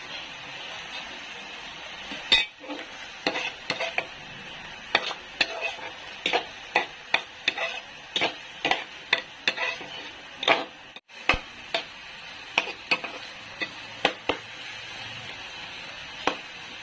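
Squid adobo being stirred in a pan after salt goes in, with a quiet simmer under a long run of regular, close scraping and tapping strokes of a spoon against the pan, and no talking.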